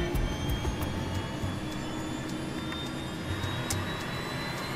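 Jet engines of an aircraft on a test flight throttling up, heard from inside the cockpit as a steady, loud broadband roar with a faint high whine, continuous and alone.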